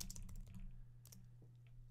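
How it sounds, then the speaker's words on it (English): Quick bursts of typing on a computer keyboard while searching donor records in a nonprofit database, a dense run of key clicks at the start, then a couple of scattered taps over a steady low hum. "I did that so quickly by just typing the word gift"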